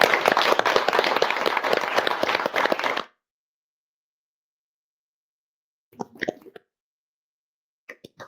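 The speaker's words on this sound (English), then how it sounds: "big round of applause for Adam" An audience applauds a speaker at the close of a talk on net zero for business, with dense clapping for about three seconds, then silence and a few faint scattered sounds.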